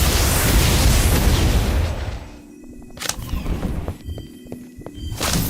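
A Confringo blast spell erupts in the Harry Potter: Magic Awakened video game, a loud, dense roaring burst that fades into scattered sharp pops and crackling impacts.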